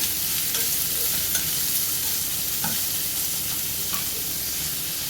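A large chopped onion sautés in a pan for brinjal masala, giving a steady, close hiss of frying with occasional soft stirring clicks throughout.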